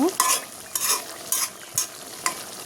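Pangas fish bhuna being stirred in a pan, a spatula scraping in five evenly spaced strokes over a low, steady sizzle, close and alone with no voices.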